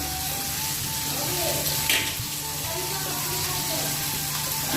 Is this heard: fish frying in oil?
yes